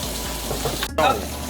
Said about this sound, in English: Okay guys, so I'm adding some water.